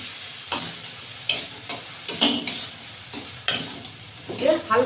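Paneer cubes stir-fried into a spinach masala in a village kitchen, with intermittent scraping stirs and sizzle, louder bursts every second or so.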